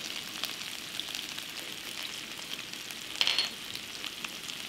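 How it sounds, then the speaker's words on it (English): Potato pieces fry in a pan with salt and spices, a soft, continuous sizzle heard close but quiet, with one brief louder crackle near the end. "we have to still fry the potatoes till they become light golden brown"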